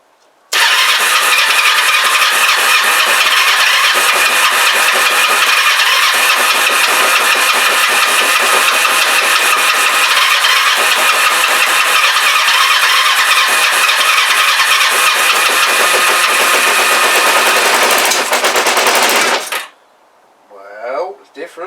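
Kawasaki GPZ500S motorcycle engine, started by crossing the starter because the button is faulty, running loud and close with a harsh, buzzy mechanical clatter for most of the time before cutting off abruptly near the end.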